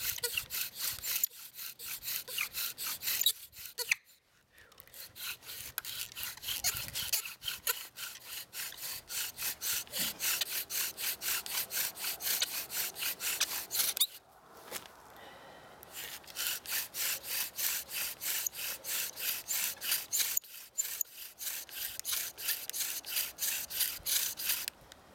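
A bow drill spindle rubs back and forth against a wooden fireboard to grind out sawdust for a fire, a close, rapid rhythmic scraping with a few brief pauses between strokes.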